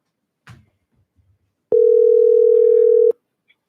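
A telephone dial tone sounds as a call is placed back, a single loud steady tone lasting about a second and a half, preceded by a brief handling noise and otherwise silence.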